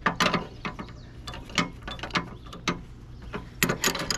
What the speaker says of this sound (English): So there's a nut here, and I'm gonna use my special wrenches.